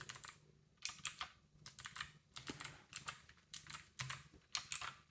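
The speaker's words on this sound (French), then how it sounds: "j'aime beaucoup le clavier de chez Action, qui fait un bruit sympa pour des blues" Clicky keystrokes rattle on an Action Battletron mechanical keyboard with blue switches, coming in quick irregular bursts with short pauses between them, close and crisp.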